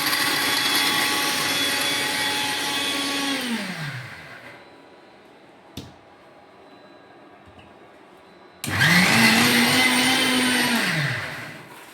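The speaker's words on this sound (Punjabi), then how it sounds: "ਆਪਾਂ ਹੁਣ ਪੀਸਦੇ ਆਂ ਜੀ ਇਹਨਾਂ ਨੂੰ ਇਹ ਥੋੜਾ ਥੋੜਾ ਕਰਕੇ ਪੀਸਣਾ" An electric spice grinder whirs loudly while grinding cardamom pods in small batches, running in two bursts of a few seconds each with a short pause and a faint click between them.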